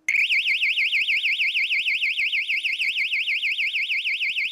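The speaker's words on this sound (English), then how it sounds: "the power transistor switches on and off the piezo siren" A homemade alarm clock's piezo siren, switched by a power transistor, shrieks loud and close with a rapidly warbling high-pitched tone that repeats several times per second without pause.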